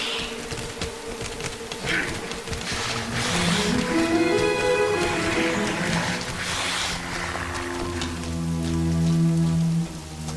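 Steady rain patters and hisses through a moody platformer game set on desolate city streets, layered under soft sustained musical tones that swell and fade.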